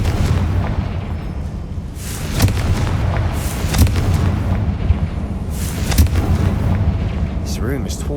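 Confringo blasting spells in the game Hogwarts Legacy set off a series of loud, booming explosions with rumbling tails over a steady ambient bed.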